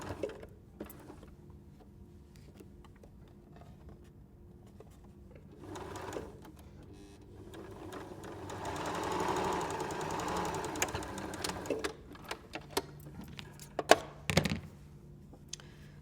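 A domestic sewing machine stitching fabric for an arrowhead star quilt block hums in bursts, with a longer steady run in the middle, then sharp clunks and knocks near the end. There is little talk.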